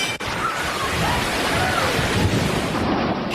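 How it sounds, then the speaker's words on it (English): Tsunami waves crash ashore in a continuous roaring surge of water and rushing wind, loud and broadband throughout with no clear breaks, like a heavy storm of surf pounding the coast. "a mountain of waves came crashing in"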